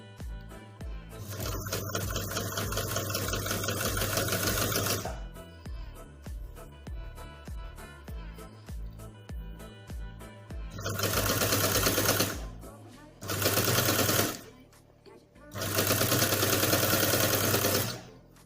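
Domestic sewing machine running a long straight seam along folded fabric for a child's kerchief, loud bursts of rapid rhythmic stitching broken by short pauses, close up with no talking.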